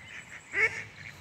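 A wild duck, one of a family that lost its ducklings by a pond, gives a single raspy quack at mid-distance against faint outdoor background.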